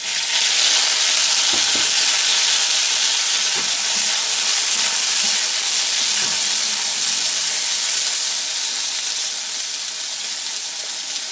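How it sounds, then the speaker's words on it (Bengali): Ripe jujubes (kul) drop into a hot oil spice tempering for a Bengali chutney, and a loud, steady sizzle and hiss fills the pan without a break and slowly eases toward the end, with no voices. "ফোড়নটা ফ্রাই হয়ে গেছে, এবারে এর মধ্যে কুলগুলো দিয়ে দিচ্ছি।"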